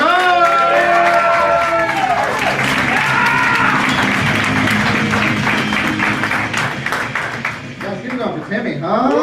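Comedy club audience applauding and cheering for a comedian: loud, dense clapping with whoops and shouts all the way through, under voices, fading slightly near the end as more cheers rise.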